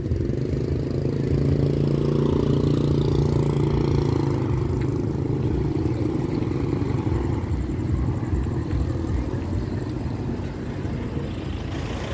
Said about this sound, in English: So around here is all the tuk-tuk, little ride around, tuk-tuk taxi.